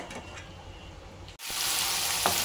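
Half a kilo of potatoes with fenugreek leaves frying in a curry pan over a high flame, a steady loud sizzle that briefly drops out and then returns stronger and denser, alone without talk.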